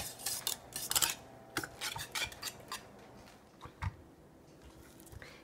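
Coconut cream pie filling being stirred in a pot, with a spoon scraping and clinking against the metal in a quick irregular burst of strokes that thins out into occasional softer taps.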